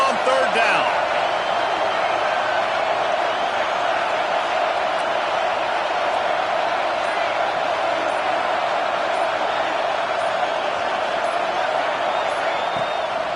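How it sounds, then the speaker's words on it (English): A home crowd roars in a stadium at a football game as the defense tries to get off the field on third down, a loud, steady wall of crowd noise that holds for the whole stretch. "Here comes this home crowd as the defense tries to get off the field on 3rd down."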